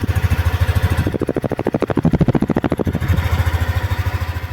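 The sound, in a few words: Yamaha Aerox 155 scooter engine idling, stock muffler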